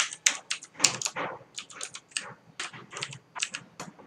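Quick, irregular keystrokes on a computer keyboard while C code is entered, close and crisp, with short pauses between clusters of taps and no speech.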